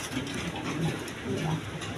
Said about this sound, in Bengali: একদম সুন্দর, মাশাআল্লাহ, গড়া টাইপের কবুতর।